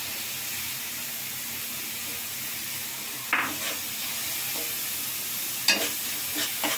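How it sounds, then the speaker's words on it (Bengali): Shrimp frying in a spiced masala of turmeric and other spices gives a steady, close sizzle and hiss, broken by two sharp bursts as the pieces are stirred and tossed in the pan. "এখন আমি চিংড়ি মাছটা দিয়ে দিব।"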